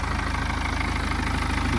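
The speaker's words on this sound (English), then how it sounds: "So we've got the engine running." A BMW 420d Gran Coupe xDrive M Sport diesel engine idles in a steady, low, even rumble with a faint rhythmic clatter, close and continuous, no talking.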